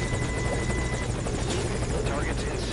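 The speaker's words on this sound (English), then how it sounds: "You get a brand new helicopter ride." A helicopter in a video game flies with a steady, dense rotor drone that stays loud for the whole stretch, with game sounds and chatter layered over it.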